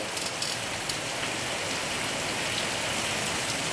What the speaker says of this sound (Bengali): কিন্তু প্রচণ্ড বৃষ্টি চলছে প্রচণ্ড